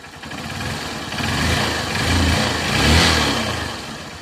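A Honda CB 125 E motorcycle engine runs after a carburetor adjustment, a steady close mid-pitched idle that rises and swells through a couple of gentle revs, alone and without talk.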